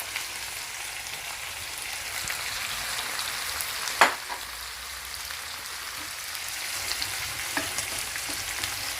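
Tomatoes and capsicum sizzle and fry in a cooking pot with onions, a steady broadband crackle throughout with one sharp clink near the middle and occasional light stirring taps.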